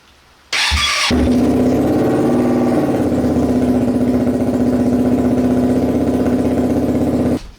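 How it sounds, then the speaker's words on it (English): A mini sport motorcycle build without its exhaust baffle, choke on, fires up abruptly and settles into a loud, steady, close-up idle that runs until it cuts off near the end. "this is without the baffle. Choke on, engine on."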